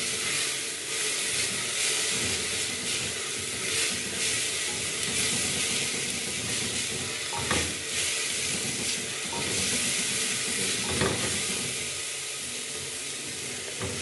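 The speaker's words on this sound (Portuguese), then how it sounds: "Tem gente que frita o alho" Chopped garlic frying in a cooking pan, a continuous loud sizzle and hiss with occasional crackling pops, heard alone without talk.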